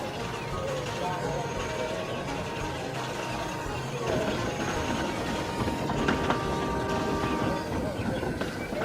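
Train rolling out of a yard, a steady rumbling clatter of wheels on track with faint squealing tones, mid-distance and continuous.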